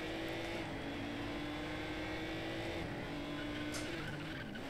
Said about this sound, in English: Oh, that is definitely a crash.